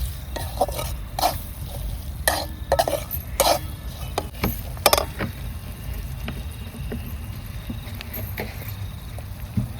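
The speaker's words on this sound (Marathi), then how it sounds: "मसाला तळून घ्यायचे ते" Masala for a paneer gravy frying in a pan, with a steady low sizzle and scraping stirs, the spoon clattering against the metal vessel in short bursts, close and fairly loud, no talking.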